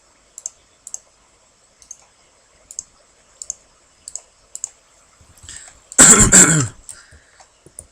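A single loud, close cough bursts out near the end, preceded by soft, regular mouse or keyboard clicks from someone playing Minecraft at a computer.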